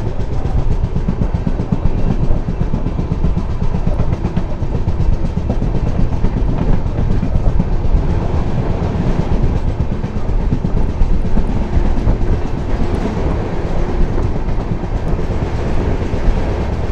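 A Vande Bharat train runs on rails with a loud, continuous rumble and steady rhythmic clatter of wheels over track joints, heard close from on board with no voices.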